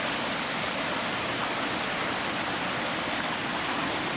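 A shallow river flows over a rock bed, making a steady, even rush of water that fills the whole stretch without variation or voices.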